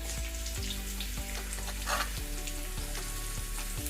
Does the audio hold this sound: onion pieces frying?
yes